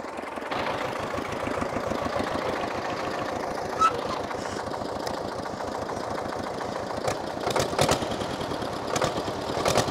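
A tractor engine runs on a farm field with a steady, close, rhythmic thumping chug that holds an even beat throughout, with occasional louder clanks toward the end.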